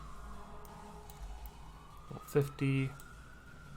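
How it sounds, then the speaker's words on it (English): Siren of an ambulance or fire truck passing outside, a faint rising and falling wail in the background under a short spoken word and a brief clatter. "there's an ambulance going on outside, or fire truck"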